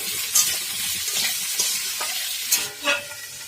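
Cauliflower stirred with salt in a frying pan, a close, continuous sizzle broken by a few sharp spatula scrapes and clinks, no voices.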